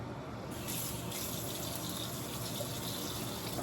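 Steady tap water runs and splashes into a sink for face washing, a constant close gush with no break through the whole stretch.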